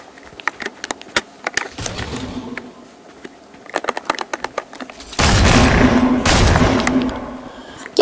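Video game gunfire crackles in rapid scattered shots, then a sustained roaring burst of heavy firing and explosions, loud and close with no speech over it.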